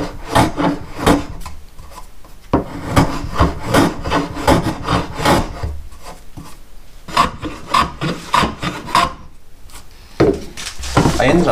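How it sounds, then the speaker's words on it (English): Repeated rasping strokes of a hand plane cutting a chamfer on a wooden box, close and loud, in rhythmic runs of quick passes with short pauses between. "so I could use the plane to put that on as well"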